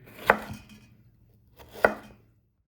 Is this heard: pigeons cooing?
no